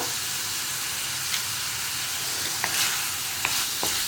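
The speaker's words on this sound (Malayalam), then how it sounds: "അപ്പോൾ ഒരു 5 മിനിറ്റ് ഞാനിത് ഇങ്ങനെ ഇളക്കിക്കൊണ്ടിരിക്കട്ടെ" Vegetables with plenty of curry leaves being stirred in a hot pan for a Kerala vegetable mappas make a steady, loud frying hiss, with a few faint spoon taps against the pan near the end.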